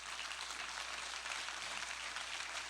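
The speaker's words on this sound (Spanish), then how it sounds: "Dar un aplauso al Señor." A church congregation applauds during a Spanish-language sermon, a soft but continuous, even patter of many hands clapping throughout, with nobody speaking.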